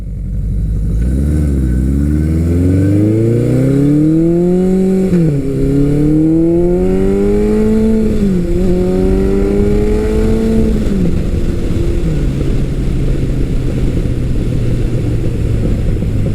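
A vintage Suzuki GS motorcycle, GS750 or GS1100, revs up loud and close, its engine note climbing and dropping through several gear shifts before settling into a steady drone; no voices.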